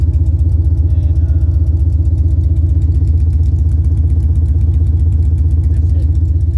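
A 1986 GMC C10 with an LS engine swap idles on open straight headers, a loud, close, steady throbbing exhaust pulse with a fast even rhythm throughout.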